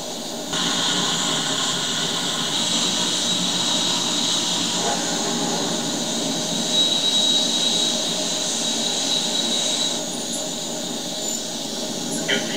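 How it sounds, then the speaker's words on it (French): Jet aircraft roar in a video game, a steady broadband engine rush held loud and constant throughout with a faint high whine running over it. "je te donne le droit de prendre mon jet"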